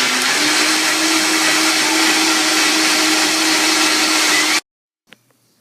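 A blender runs at full speed through a thick smoothie for a GAPS-diet kids' drink, a loud, steady whirring roar close by that cuts off abruptly, followed by a couple of faint clicks.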